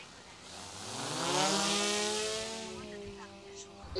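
A drone flies off toward its starting point during a search for fawns in a field before mowing, its high motor whine rising and swelling in the middle and then easing, moderately near with no talking.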